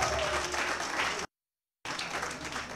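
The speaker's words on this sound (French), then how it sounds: "applaudissez s'il vous plaît, mesdames et messieurs" An audience applauds at a diploma-awarding graduation ceremony for an academy master class. Steady, dense clapping fills the hall, broken by a brief total silence before the applause resumes.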